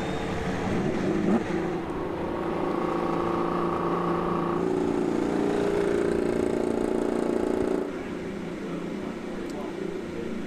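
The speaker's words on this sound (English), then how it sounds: "Drivers, start your engines!" Several IndyCar race car engines fire up together at the 2017 Grand Prix at Watkins Glen, a dense rising drone of revving motors heard at a distance, with a public-address voice speaking over them.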